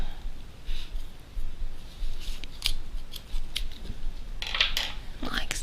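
Scissors snip through fabric while a zipper pocket is being sewn, giving a few sharp, close cuts with brief pauses between them, the clearest pair coming near the end.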